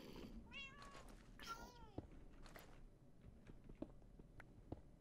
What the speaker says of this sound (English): Why do I hear so many cats?